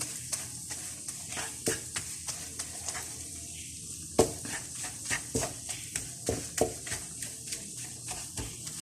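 Ground coconut being stirred into nashasta halwa in a pan, a close, rhythmic series of spoon scrapes and soft knocks against the metal over a low sizzle, repeating every fraction of a second.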